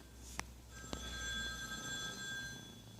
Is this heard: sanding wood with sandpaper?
no